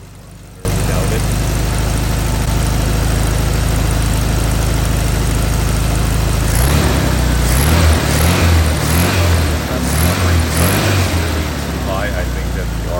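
A car engine fitted with a Solex 34 PICT 3 carburetor runs steadily at a fast idle with the oil bath air filter removed, a constant close low rumble with a burst of rhythmic clattering pulses partway through.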